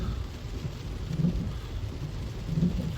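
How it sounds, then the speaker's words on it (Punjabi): Steady rain falls on a warm summer evening in Canada with no wind, a dense constant hiss with a low rumble that swells twice. "ਹੁਣ ਵੀ ਕੋਈ ਦਰਖਤ ਦਾ ਪੱਤਾ ਨਹੀਂ ਹਿਲਦਾ ਮੀਂਹ ਪਈ ਜਾਂਦਾ ਵਾ"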